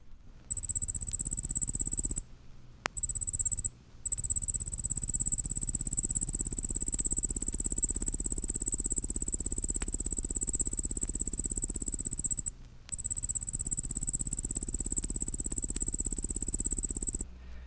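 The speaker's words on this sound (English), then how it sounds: "The striped ground cricket, Nomobius fasciatus fasciatus, begins singing in early July in lawns, pastures, and along roadsides." A striped ground cricket trilling steadily, a soft, continuous high-pitched trill broken by a few short pauses, heard alone and close.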